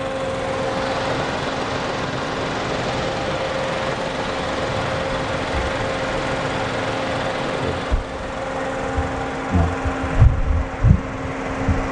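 A Suzuki Karimun Wagon R GS with a 1000 cc engine idles with the air conditioning and AC fan running: a steady, even hum with a constant tone, joined near the end by a few louder low thumps.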